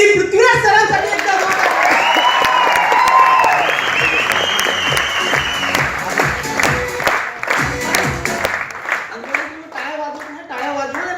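A company meeting audience breaks into loud, sustained applause with scattered cheers, dense clapping from many hands while a voice carries over it, then the clapping thins toward the end as talk resumes.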